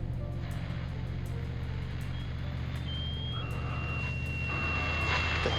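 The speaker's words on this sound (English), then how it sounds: "An EM pulse tone." An electromagnetic pulse tone from a polar-storm catastrophe movie hums as a steady low droning pulse, with thin high tones sliding in and out above a constant loud rumble.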